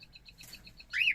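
Cockatiels kept for breeding give a quiet run of short repeated chirps, then one louder rising call at the end.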